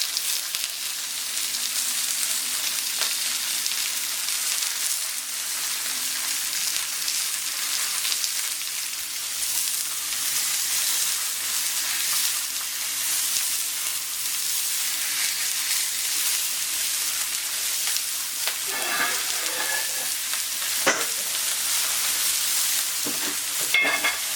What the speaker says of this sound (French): Donc on pose la viande, on n'y touche plus, jusqu'à temps qu'on la retourne.